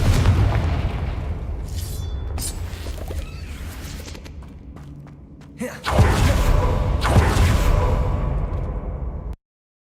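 Confringo blasting spell explosion in Hogwarts Legacy: a deep booming blast lands midway through rumbling night ambience, followed by a lingering swell of debris and rumble before cutting off abruptly.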